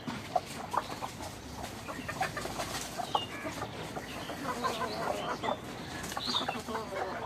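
Chickens clucking and murmuring nearby, several birds at once, with scattered squawks over a soft outdoor background.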